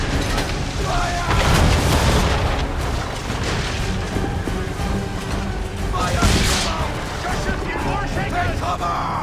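Heavy ship cannons boom repeatedly during a naval battle in Assassin's Creed 3 on Xbox 360, dense overlapping blasts and rumbling throughout, with shouted voices mixed in the din.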